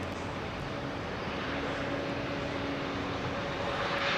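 A Boeing 737-8 with CFM engines arrives on runway 27R at London Heathrow, a faint, steady distant jet roar with a thin, sustained whine running through it.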